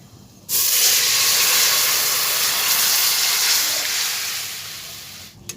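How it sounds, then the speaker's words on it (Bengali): Curry of elephant foot yam and bhangon fish is poured into a hot pan of oil with panch phoron and dried red chillies, bursting into a loud, steady hiss that holds for several seconds and slowly fades. "এবারে আমি তরকারিটা দিয়ে দেব"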